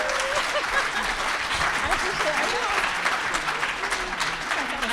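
Steady audience applause at the close of a panel discussion on film and the Black press, dense clapping continuous for about five seconds with a few faint voices beneath.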